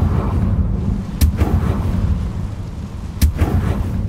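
The Confringo fire spell in Hogwarts Legacy detonates in two booming blasts a couple of seconds apart over a dense, rumbling game background, loud and with no speech.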